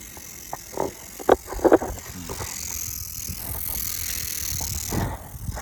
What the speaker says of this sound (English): So loud freewheel